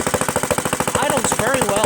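A Kohler Command CV460S engine on a Craftsman LT1000 lawn tractor idles up close with a loud, even chugging pulse, while a voice speaks briefly over it near the end.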